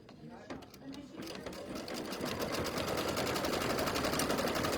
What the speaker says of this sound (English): then I'm going to stitch my tack down stitch